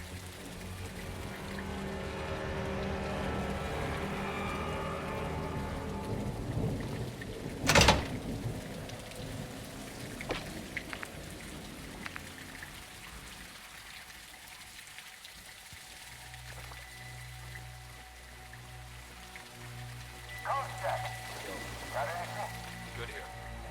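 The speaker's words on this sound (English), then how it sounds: "It's raining fucking hard." Heavy rain in the Call of Duty Modern Warfare 2 campaign, a steady dense hiss of downpour that gradually fades, with a sharp crack partway through and voices talking over it.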